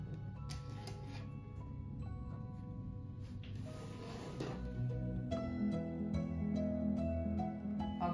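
A sewing machine stitches fabric tulip pieces for a rug, running as a steady, moderately loud mechanical whir with a faint ticking texture that rises slightly toward the end.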